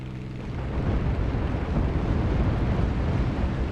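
A video game airplane takes off with a deep, rumbling engine roar that rises quickly and then holds as a heavy, continuous low thunder for a few seconds.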